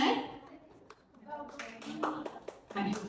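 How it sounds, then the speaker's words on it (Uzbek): An audience at a student award ceremony applauds in scattered bursts of hand clapping of moderate loudness, with a person talking over and between the claps. "Tabriklaymiz, qarsaklar bilan qo'llab-quvvatlab turamiz o'quvchilarimizni."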